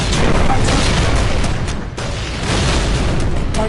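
Artillery fire in the video game League of War VR Arena: a dense, loud, continuous wash of booming blasts, with a brief dip in the middle before the rumble resumes.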